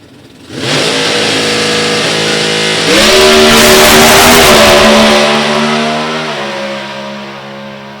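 A drag racing car with wheelie bars makes a full-throttle run at an NHRA Division 3 event at Beech Bend Raceway Park. The engine bursts into a loud roar, surges harder and climbs in pitch, then eases off toward the end.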